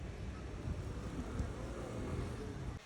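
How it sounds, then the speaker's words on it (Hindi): Wind blows outdoors on a street in Korea, a steady low rumble buffeting the microphone with a few stronger gusts, with no voices over it. "फ़िलहाल हवा चलने लगी है"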